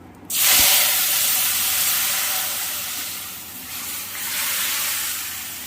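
A loud burst of sizzling and hissing as pumpkin curry is poured into hot oil, settling into steady frying that swells slightly again near the end.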